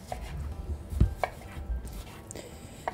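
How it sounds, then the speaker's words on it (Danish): Knife slicing thin pieces of rolled fish for ceviche on a board, a few soft, separate cuts and taps at irregular intervals, close and moderately quiet with faint kitchen background. "Så skærer man det bare tyndt."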